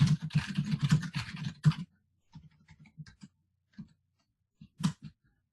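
Typing on a computer keyboard while entering input for a simple program: a rapid dense burst of clicks for about two seconds, then sparse, irregular single keystrokes, close and moderately loud.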